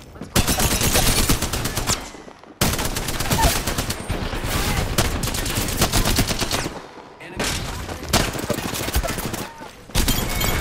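Light machine gun fire in an Apex Legends match, long sustained automatic bursts with rapid dense shots broken by short pauses, loud and close, under game effects and brief voices.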